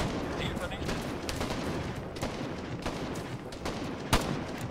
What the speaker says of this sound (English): Our guys are shooting at Ost.